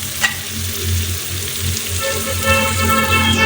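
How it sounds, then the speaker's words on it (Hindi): White chickpeas frying in masala for chana pulao, a steady close sizzle with stirring scrapes in the pan, loud and continuous without any voices. "अब हमने इसमें चने ऐड कर दिए, चनों को भूनेंगे थोड़ी देर के लिए मसाले में"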